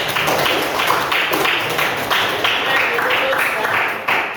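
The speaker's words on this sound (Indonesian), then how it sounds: "tepuk tangan untuk nomor 3" Pupils in a classroom applaud, a dense burst of many hands clapping close by in uneven waves that fade near the end.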